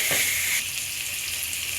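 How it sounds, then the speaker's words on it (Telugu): Green chillies and tomatoes fry in a pan for potato fried rice, giving a steady close sizzle and hiss that sounds on its own with no talking. "పచ్చిమిర్చి వేసుకున్నాక ఒక 2 నిమిషాల తర్వాత టమోటాకాయ ఇలా ఈ 3 బాగా వేయించుకున్నాక ఈ విధంగా బాగా వేయించుకోవాలి."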